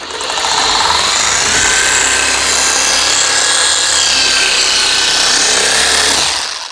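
A 20 mm scraper sander working with 80-grit abrasive gives a loud, continuous, gritty whir of power-sanding that holds steady from start to finish, with no voices.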